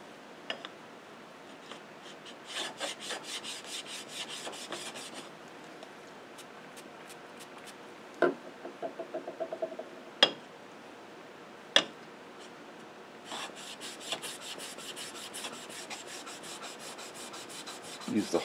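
A Stanley No. 5 hand plane rubbed back and forth on a sharpening stone, giving a steady raspy scraping that runs through most of the stretch, with a few sharp knocks in the middle.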